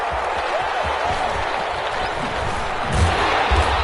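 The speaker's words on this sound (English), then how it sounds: "This crowd is ready as their guys get set to match up between the New England Patriots and the New Orleans Saints." Dense stadium crowd roar at a New England Patriots versus New Orleans Saints football game, a steady wash of cheering and applause that swells slightly near the end, with no clear voice on top.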